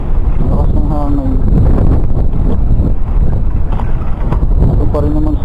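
Strong seaside wind roars steadily into the microphone throughout, a constant buffeting rush, with voices talking intermittently over it.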